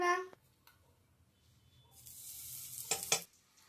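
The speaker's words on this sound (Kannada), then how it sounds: "ಫಸ್ಟ್ ಇವಾಗ ಬಟರ್ ಹಾಕೋಣ." Butter dropped into a pan on a gas stove, with a soft sizzle building and swelling into a louder hiss near the end, close by, after a brief stretch of talk.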